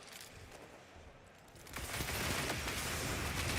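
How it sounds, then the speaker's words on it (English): A flame wall grenade goes off during a competitive esports video game match: a sudden broadband burst that swells into a sustained, loud roaring crackle, following a quieter stretch of game ambience. "flame wall grenade does enough damage to take down Walla"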